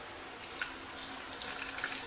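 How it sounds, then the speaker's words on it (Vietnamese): A kitchen tap runs gently over a sea crab being rinsed, a steady close hiss of flowing water with small splashes and drips, no voices. "xả nước nhẹ không nó trôi gạch cua"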